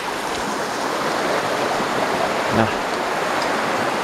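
Water of a river or stream rushing below a bridge in the New Zealand jungle of Kahurangi, a loud, steady broadband wash throughout with a brief soft vocal sound near the end.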